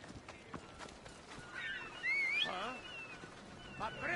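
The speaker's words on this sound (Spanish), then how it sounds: "Vamos con el caballo." Horse hooves clip-clopping in the video game Assassin's Creed Odyssey, a soft rhythmic patter joined by a whinny-like call midway, mixed with game sound and a voice speaking.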